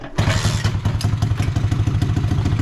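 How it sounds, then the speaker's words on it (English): A mini chopper motorcycle engine catches with the choke off and settles into a loud, close, throbbing idle with a fast, even rhythm and some mechanical clatter. "Let's start it again, but with the choke off. Should be able to get some throttle."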